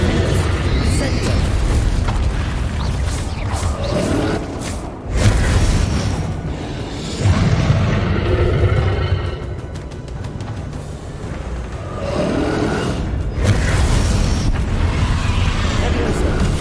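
Booming explosion spells, Bombarda and Confringo, cast in Hogwarts Legacy, several heavy low blasts and rumbles spread across a loud, busy battle with spoken voices over it.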